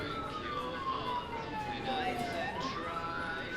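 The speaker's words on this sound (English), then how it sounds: "It's an ambulance." A distant ambulance siren wails with a slowly sweeping tone, faint beneath a murmur of background noise and voices.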